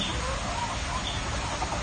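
Several backyard chickens cluck and murmur continuously in a busy, noisy yard, with the clucking close and steady throughout.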